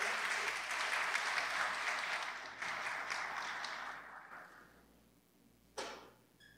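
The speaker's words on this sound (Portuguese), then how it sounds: "professora Terezinha Ruiz, uma salva de palmas." Applause from an audience at an institutional launch event fills the room, fading gradually before a single sharp knock or thud sounds near the end.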